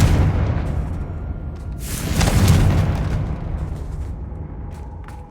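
A Confringo spell explosion in the video game Hogwarts Legacy, a loud deep boom that swells with a roaring blast around its peak, then rumbles and fades into a low tail with faint debris clicks.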